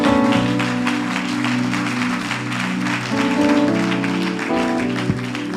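A church congregation applauding during worship, steady clapping blended with loud music, continuous for several seconds.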